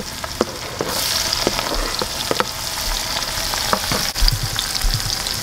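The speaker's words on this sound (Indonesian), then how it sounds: "Sekarang saya nak menumis bahan ini tadi." Ingredients sautéing in a frying pan over a small flame for fried salted fish, with a steady continuous sizzle and scattered crackles and stirring clicks, close and fairly loud with no talk.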